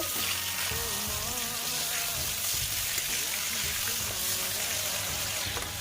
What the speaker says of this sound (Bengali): আবার ওই তেলে বেগুনগুলোকে ভালো করে ভেজে নেব।